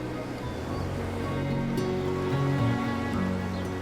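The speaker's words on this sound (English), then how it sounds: "Coastal cliffs drop sharply to beaches where Indian Ocean swells roll in uninterrupted" Indian Ocean swells roll onto a beach below coastal cliffs in Western Australia's Margaret River region, a continuous broad wash of surf with soft musical tones running underneath and no voices.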